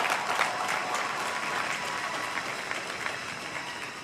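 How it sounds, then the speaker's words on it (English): Audience at an NYU commencement speech applauding, a steady, dense wash of many hands clapping throughout with light crowd noise. "That should be applauded."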